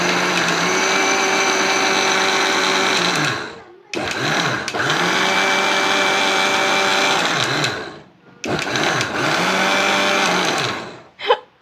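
A mixie grinds coconut, ginger, green chilli and fennel in three loud, whirring bursts separated by short pauses, its motor pitch dipping as each run winds down.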